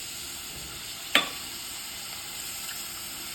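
Vegetables, including small potato pieces, sautéing in a pan for vegetable biryani: a steady, even sizzle and hiss throughout, broken once by a single brief utensil clank.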